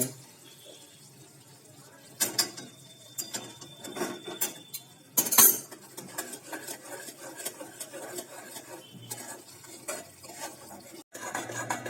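Semolina being stirred and mixed in a pan for rava barfi, with repeated scraping and clinking strokes of a spoon against the metal, close and fairly loud, one sharp clatter partway through.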